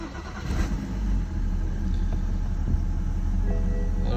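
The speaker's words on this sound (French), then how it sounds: "Donc on va démarrer la voiture" A BMW 330d E90 diesel with an aftermarket downpipe cranks and catches, settling into a steady idle rumble close by, with a few faint clicks and no talk.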